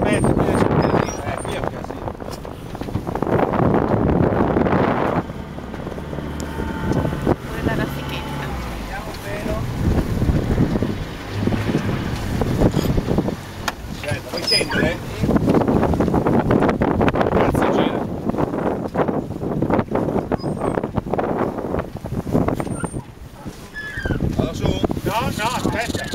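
A sailboat turning into the wind during the Giraglia 2011 race: loud gusts buffet the microphone over rushing water and flapping, rattling sounds, and people talk now and then.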